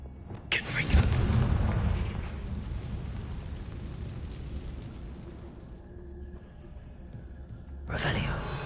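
Confringo fire spell exploding in the video game Hogwarts Legacy, a booming blast that rolls into a long crackling, rumbling tail, with a second burst near the end.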